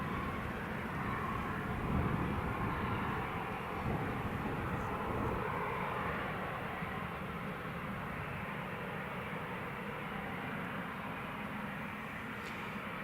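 Eurowings airliner moving on the ground at Newcastle International Airport, a broad steady jet engine roar at middle distance, continuous and slightly fading throughout.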